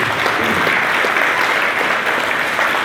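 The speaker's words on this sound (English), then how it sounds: "Can we give a round of applause to the Ottumwa High School Junior ROTC?" A crowd applauds the Ottumwa High School Junior ROTC color guard at a Veterans Day ceremony, steady dense clapping that stays loud and even for the whole stretch.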